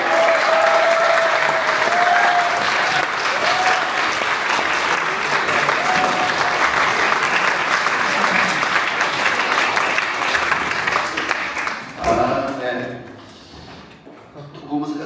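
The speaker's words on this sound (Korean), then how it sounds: "박수를 드리겠습니다" A Korean church audience in Wrocław applauds steadily at a ventriloquism gathering, the dense clapping running long with voices mixed underneath, then dropping abruptly into a voice speaking near the end.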